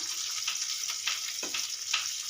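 Bitter gourd (karela) pieces fry in a pan with a steady, even sizzle, and a few soft scraping strokes come through as the pieces are stirred.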